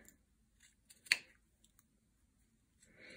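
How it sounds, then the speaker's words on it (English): Scissors cut around the edges of a handmade keychain base, giving a single crisp snip with a few faint clicks around it in an otherwise quiet room, followed by soft rustling near the end. "Now I'm just gonna cut off the edges."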